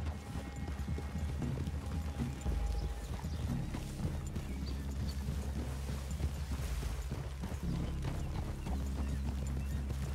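Horses in the Red Dead Redemption 2 video game clip-clop at a walk through a clearing, a steady muffled run of hoofbeats with an occasional whinny over a low rumbling background.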